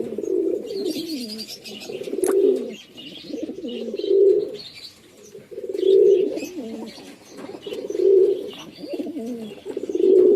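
Madras pigeons in a village loft give low, throaty coos in a steady rhythm, one phrase about every two seconds, close and clear, with faint chirps above them.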